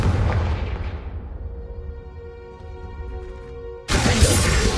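A Confringo fire spell in Hogwarts Legacy erupts in a loud booming blast that decays into a ringing, tonal magical hum, then a second sharp burst of crackling noise hits near the end.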